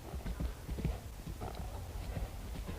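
A horse's hooves canter in an even three-beat rhythm on soft arena footing, heard at a middle distance as muffled, steady thuds.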